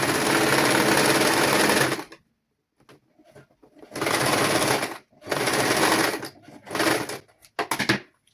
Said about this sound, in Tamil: அதுக்கு பிறகு இந்த லாஸ்டிக்கை தைக்க வேணும்